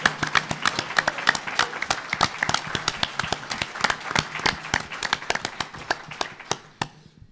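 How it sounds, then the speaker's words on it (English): A conference audience at a 2015 Secret Space Program event in Bastrop applauds the AV team with dense, sustained hand clapping that carries on for several seconds, then fades out, with no talking over it. "So I want to give a round of applause for the professionality of those guys."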